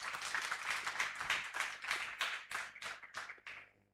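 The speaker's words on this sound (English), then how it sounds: "Everyone give Tim a round of applause" Audience applause at a conference, a burst of many hands clapping that fades over a few seconds into scattered last claps, somewhat distant and faint.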